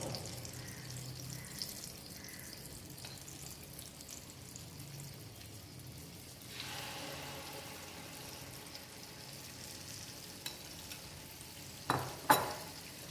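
Batter is poured into hot oil in a flat pan. A faint, quiet background gives way to a soft, spreading sizzle partway through, then a few sharp clinks near the end.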